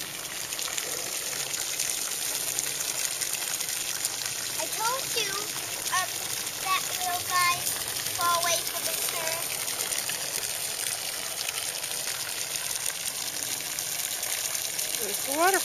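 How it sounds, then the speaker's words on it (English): Steady broadband rush of falling water fills the scene throughout, with children's voices and calls popping up briefly over the constant roar. "It's a waterfall."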